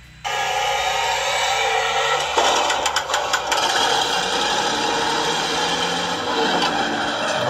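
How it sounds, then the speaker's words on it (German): A Taigen sound module in a Tiger RC tank plays a simulated engine: a steady mechanical drone starts abruptly, revs with rattling bursts, then settles to a lower idle rumble. "Da hört man auch gleich die schöne Tiger Sound Modul von Taigen"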